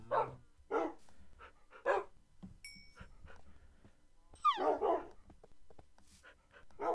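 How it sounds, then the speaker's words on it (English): Several dog barks and yips from a Minecraft game, spaced in short bursts with a high whimper-like tone partway through, fairly close and clear with no talk over them. "Puppies!"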